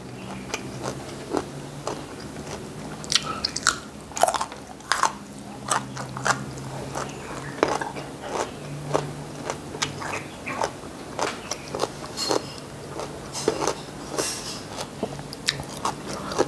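Close-up crunchy bites and wet chewing of fresh mango, eaten alongside fermented fish and fresh vegetables, repeating in an irregular rhythm of crisp snaps and softer mastication over a quiet background, with no talking.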